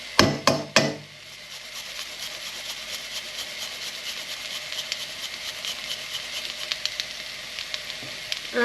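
Onion and grated ginger frying in oil in a pan for a Chinese chicken and butternut squash curry: a few loud knocks open it, then a steady close sizzle crackles on, with no talking.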